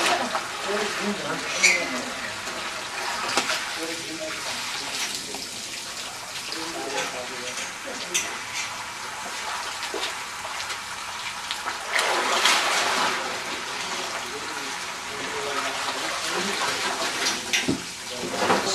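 Dyed wool yarn being rinsed in cold clean water during Tibetan rug making, with running, splashing water continuing throughout and brief louder gushes, while a voice speaks at times.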